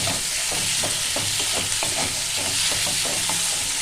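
Shrimp sizzle in hot oil with spice masala as a spatula stirs them, a steady fry hiss punctuated by regular scraping strokes against the pan, close and continuous with no talk.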